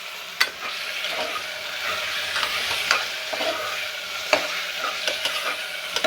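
Ginger garlic paste and tomato fry in a pan for coriander biryani while being stirred, a soft steady sizzle broken by sharp scraping clinks of the spoon against the pan, with no voices.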